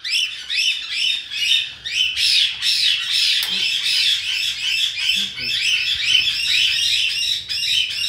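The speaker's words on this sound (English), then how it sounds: "Hi, spiky bird. You're awful loud." A spiky pet bird squawks loudly and repeatedly in harsh, shrill bursts, calling almost without pause at close range.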